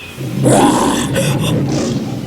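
A lion roars as a sound effect in an African story: one loud, sustained, close roar with a rising then falling growl, heard alone with no talking.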